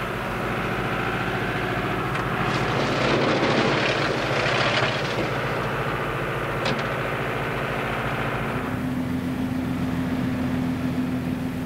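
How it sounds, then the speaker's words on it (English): A tractor-mounted shaker with claw-like grips clamps a cider apple tree trunk and vibrates it, giving a loud steady engine drone with a rattling, shuddering burst in the middle before settling to a smoother hum. "This is called the shaker. It's rather like a large pair of lobster claws fitted on the front of a tractor."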